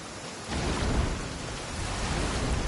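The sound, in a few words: rain and thunder in a courtyard, from the video game Genshin Impact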